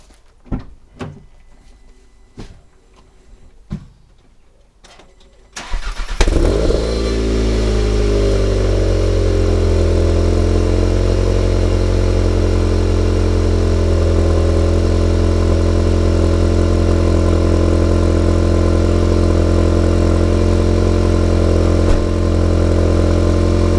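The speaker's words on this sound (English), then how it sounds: "the TCR benefits from a freer flowing exhaust apparently, which I will demonstrate now at idle" A 2019-2020 VW Golf GTI TCR (Mk7.5) with a freer-flowing exhaust fires up after a few seconds of faint clicks, then settles into a loud, steady, rumbling idle that holds without change.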